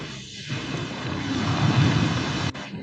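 A storm at sea rumbles with deep, rolling thunder over a dense wash of wind and rain, holding loud and continuous before a brief dip near the end, with no voices.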